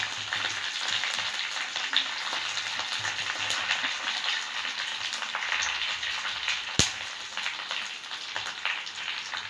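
Fenugreek and spices fry in hot oil as a tempering for okra sambar, a steady crackling sizzle with scattered pops and one sharp snap near the end, no talk.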